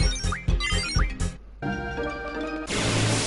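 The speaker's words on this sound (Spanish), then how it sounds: "Está el sonido del móvil." A mobile phone sound from a Final Fantasy VIII session: a short repeating electronic tone pattern, then a sustained chime-like tone and a brief noisy burst, fairly loud with no talk.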